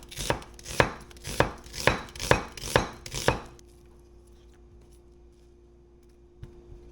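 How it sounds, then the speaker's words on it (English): A knife chops ginger on a board for rice porridge, seven crisp, evenly spaced strokes up close, then the chopping stops and leaves a quiet room hum. "We are going to chop these up and then saute them, and that will be the base of our rice porridge."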